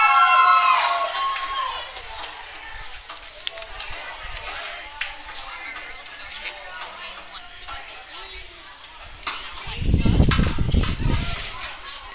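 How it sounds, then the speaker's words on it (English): Crowd on a swim meet deck shouting and cheering at the 2024 Summer Swim NL championships, a steady indoor din of voices with whoops early on and a louder low rumble of cheering swelling near the end. "Now we'll start hearing the excitement and the screaming and the cheering on the deck"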